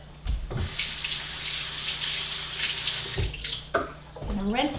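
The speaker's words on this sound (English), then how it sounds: "I'm gonna rinse that off of there." A tap runs steadily as something is rinsed under it, a broad hissing rush of water that stops briefly and returns, with a few light clatters near the end.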